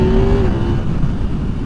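A 2023 Yamaha MT10 motorcycle accelerating hard, its engine note rising briefly then settling into a loud, close roar with wind rush over a short burst.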